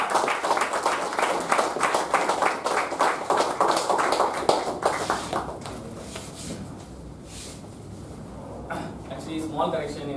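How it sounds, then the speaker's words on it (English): An audience at a Toastmasters session claps loudly for about five seconds. The applause then fades into scattered claps, with low voices and a few taps toward the end. "With a thunderous applause, let's welcome Toastmaster."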